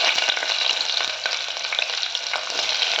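Onions fry in a pan with a loud, dense, continuous crackling sizzle up close and faint stirring underneath, no voices.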